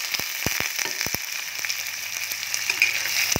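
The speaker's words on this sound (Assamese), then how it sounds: "ইয়াত এতিয়া মিহিকৈ কুটি থোৱা পিঁয়াজখিনি দি দিম" Finely chopped onions frying in hot oil, a soft steady sizzle punctuated by sharp clicks and taps of a utensil against the pan, fairly quiet and close.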